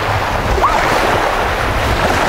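Sea waves wash onto a gently sloping, sandy beach in Yevpatoria, Crimea, a loud, continuous surf roar mixed with strong wind buffeting the microphone and no voices.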